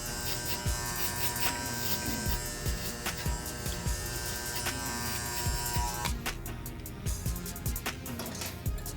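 Electric hair clippers fitted with a number 2 guard blend a high skin fade, giving a loud, continuous close-up buzz that pulses slightly as the blade moves through hair, with no talking.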